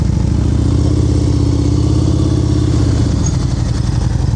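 Motorcycle engine held under steady throttle at a crawl during a slow-speed riding practice session in North Carolina, a continuous loud, close low rumble with a faint clattery edge and no pauses.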